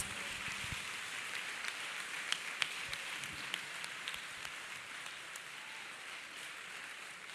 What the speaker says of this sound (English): Let us clap hands for the Lord Jesus Christ.